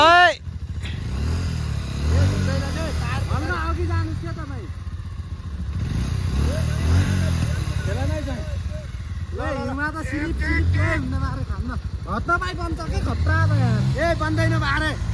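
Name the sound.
motorcycle engine revving, stuck in snow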